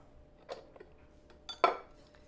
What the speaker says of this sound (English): and just give those a stir